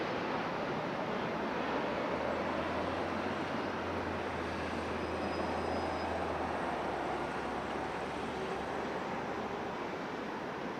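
A Lynx Air jet at LAX makes a distant, broad roar like rushing wind that holds steady throughout, with a low hum partway through and no voices.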